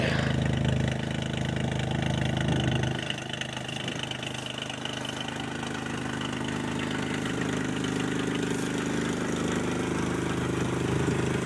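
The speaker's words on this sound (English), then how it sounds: "Nice little raspy exhaust note." A small engine idles steadily with a raspy, buzzing exhaust note, continuous and close, with a slight change in tone early on.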